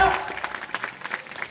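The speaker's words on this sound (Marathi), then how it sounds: "जोरदार टाळ्या" An audience at a Hindu devotional kirtan gathering claps loudly, a dense burst of applause that starts strong and continues as a steady patter of hands.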